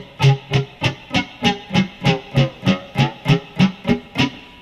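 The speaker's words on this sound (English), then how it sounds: "Alright, if we've got our flanger engaged, it's going to sound like this." Repeated low electric guitar note struck about a dozen times in a steady rhythm, with a flanger effect giving a slowly sweeping, whooshing tone; loud and close with no talking.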